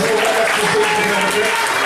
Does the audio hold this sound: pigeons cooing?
no